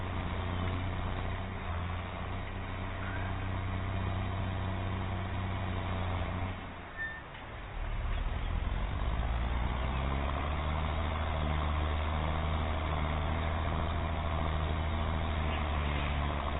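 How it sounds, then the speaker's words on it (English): A tractor engine labouring hard up a slope while muck spreading and ploughing, a steady low rumbling drone that dips briefly midway and then returns heavier and louder, close and continuous. "It does make the tractor pull hard coming up here."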